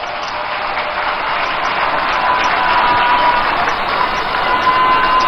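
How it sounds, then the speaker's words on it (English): A large outdoor crowd at a party manifesto launch rally in Winneba applauds party executives. The clapping and cheering are steady and dense, loud and sustained throughout, with no single voice standing out. "let's give all of them a round of applause"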